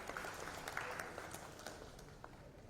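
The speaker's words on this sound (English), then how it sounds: "Please give a big round of applause for them." An audience at an education conference claps, a steady wash of applause heard from a distance that slowly tapers toward the end, with faint murmuring mixed in.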